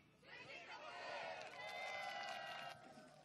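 Youth audience at an outdoor humanities concert on Jaraseom island, Gapyeong, breaks into sustained applause and cheering that swells and holds for a few seconds, a dense crowd roar filling the space.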